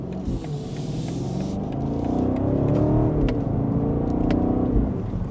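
A 2025 BMW X6 M60 engine revs with a steady, full rumble, rising and swelling under load, its synthetic exhaust burble running loud and close throughout with no talking.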